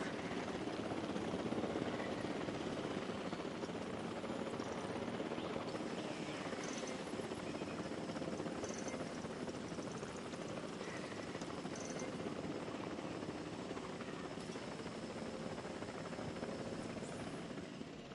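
A helicopter airlift in the video game Jurassic World Evolved, its rotor chopping steadily and continuously at moderate volume, with faint clicks on top and no voices.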